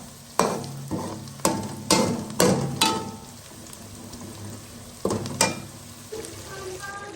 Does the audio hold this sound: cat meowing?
no